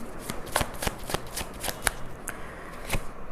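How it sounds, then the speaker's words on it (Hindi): Tarot cards are shuffled and pulled from a deck, giving close, crisp riffling snaps in a quick, irregular series. "Let's see, I would pull 5 cards. मैं 5 कार्ड्स निकालूंगी।"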